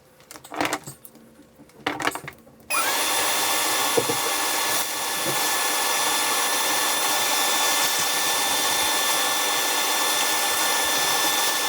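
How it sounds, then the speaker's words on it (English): Shop vacuum cleaning up sawdust after routing a drain hole in a Quick Pitch, starting abruptly after a few knocks and clatters, then droning loud and steady close by. "I'll get the vacuum"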